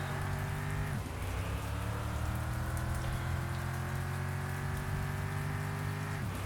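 Rain falls steadily in the Mon Bazou video game, a dense hiss of drops under a droning car engine whose pitch rises and falls as it drives, with no voices.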